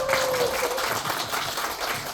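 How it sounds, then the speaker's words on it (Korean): An audience at a women's committee forum on gender equality in Cheongju applauds after a presentation, giving steady, moderately loud clapping that fills the hall. "큰 박수 한번 부탁드려주세요."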